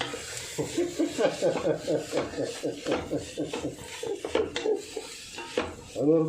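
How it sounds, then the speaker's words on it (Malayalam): Onions being sautéed for chicken varattu, heard as a steady run of metal-on-metal scraping and stirring clatter from a spoon or spatula against the pan, close and fairly loud, with no speech. "ഇത് വഴട്ടി സവാള ഒരു ചുമന്ന കളർ ഏകദേശം വരുന്നത് നോക്കി വഴറ്റുക."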